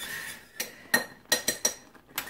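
Several metallic clinks and clanks of lids being set on pots, sharp and close, in quick irregular succession.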